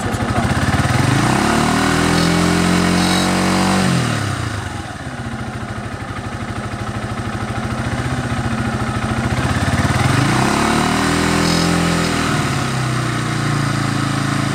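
A Kawasaki KTR150 motorcycle engine is revved up and down while idling, loud and close with rising and falling throttle sweeps, and no voices.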